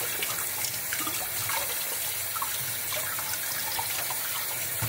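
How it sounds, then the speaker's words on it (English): Steady running water from a kitchen tap splashes continuously into a sink as hands are washed, a full, even rush filling the whole stretch with no talking. "we're here in the kitchen, so I'm just gonna wash my hands"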